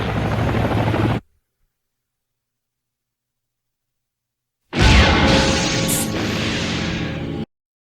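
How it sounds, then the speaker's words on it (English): Helicopters approach at high speed in the 1995 animated film Ghost in the Shell, a loud rotor roar in two bursts separated by several seconds of silence, the second with a rushing whoosh. "3 helicopters approaching at high speed."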